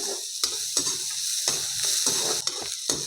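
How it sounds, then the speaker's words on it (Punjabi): Onion stir-fried in a pan gives a steady, close sizzle, with a few sharp scraping strokes of the spatula at irregular intervals and no voices. "ਉਦੋਂ ਤੱਕ ਆਪਾਂ ਪਿਆਜ਼ ਨੂੰ ਭੁੰਨਣਾ"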